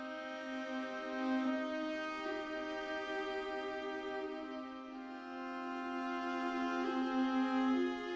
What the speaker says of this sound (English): this is just the original strings sound